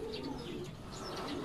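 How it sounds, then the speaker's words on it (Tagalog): Racing pigeons coo and murmur close by in a loft, several soft overlapping calls over a steady background hum. "Maraming mga ibon."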